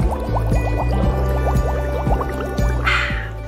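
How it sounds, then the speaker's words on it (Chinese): Sparkling water poured into a bottle already holding whey, a continuous gurgling fill with rhythmic glugging pulses, close and loud, ending in a brief fizzy rush. "气泡水250cc， 直接放到满。"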